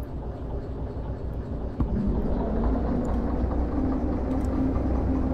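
A locomotive in Derail Valley rumbles along steadily, a low continuous engine drone with a faint rising tone after a small knock, close and even, no talking.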